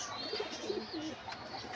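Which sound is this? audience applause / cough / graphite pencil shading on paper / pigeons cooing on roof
pigeons cooing on roof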